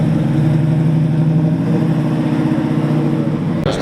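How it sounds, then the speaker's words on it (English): A Chevrolet Camaro engine idles with a deep, steady rumble, loud and close throughout, with a sharp brief noise near the end. "That's us Camaro. Ooh, that thing sounds good."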